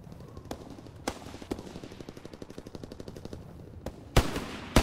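Rapid automatic gunfire in the World War II shooter Call of Duty: WWII during a Hardpoint match, a steady burst of close machine-gun shots punctuated by a few louder, sharper blasts near the end.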